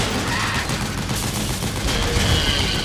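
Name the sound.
machine gun fire from an APC in Metal Gear Solid 4 video game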